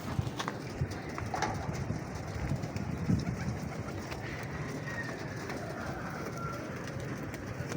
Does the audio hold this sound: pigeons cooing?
yes